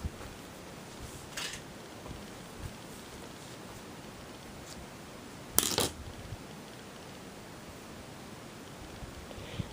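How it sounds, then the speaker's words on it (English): Scissors cutting paper for a handmade fall greeting card, a brief crisp snip-and-rustle burst standing out near the middle of an otherwise quiet, hissy stretch, with a fainter rustle earlier on. "And then now, what we need to do is just cut."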